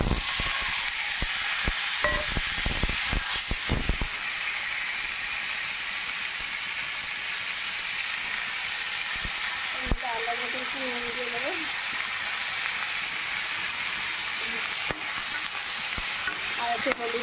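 Tomato added to a pan of bay leaf tempering in hot oil crackles loudly at first, with sharp spatters, then settles into a steady, even hiss; a voice speaks briefly partway through.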